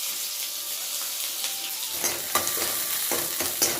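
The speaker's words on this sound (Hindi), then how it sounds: "तो प्याज काटती हूँ मैं और फिर इसको छौंकती हूँ।" Chopped onion tempering in hot oil in a pan, giving a steady bright frying sizzle throughout, with a few louder crackles and stirring clatters in the second half; no talking.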